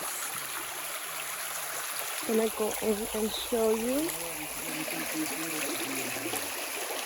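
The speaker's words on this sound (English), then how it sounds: "Here is the river, my friends." A clear river in a Jamaican village flows with a steady, broad rushing wash throughout, heard up close beneath a voice speaking over it.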